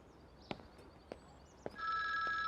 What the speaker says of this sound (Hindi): अब कौन है? किसका फोन आ गया?